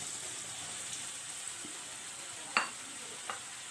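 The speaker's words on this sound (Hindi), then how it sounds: "तो इसको अब मैं फ्राई कर रही हूँ।" Cornflour-coated fish frying in very hot cooking oil makes a soft, steady hiss, fairly quiet and even, with a couple of brief sharper pops or spatters near the end and no talking.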